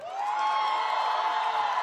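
A dense crowd cheers and shrieks at the Thug Life meet and greet in Malaysia with Kamal Haasan and Trisha, a steady, loud wash of voices that holds for a couple of seconds.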